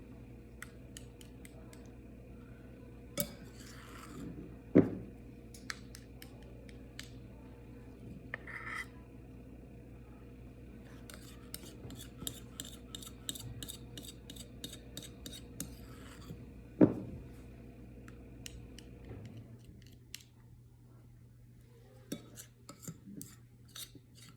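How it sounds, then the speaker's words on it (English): Muffin batter is spooned into baking cups, with soft scraping, rubbing and occasional sharp metal clinks of a spoon against a bowl, close by and fairly quiet, with no talking. "go ahead and distribute it evenly between the other baking cups. So about another like half spoonful for each one"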